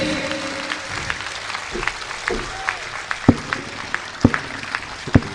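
An audience at a Hindi kavi sammelan poetry recital claps in scattered, uneven bursts, with a few sharp claps standing out near the end.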